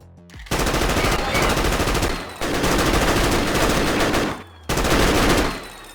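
Sustained automatic fire from an M4 rifle in a video game, three long loud bursts separated by brief pauses, each burst building up with a wind-up before the rapid shots.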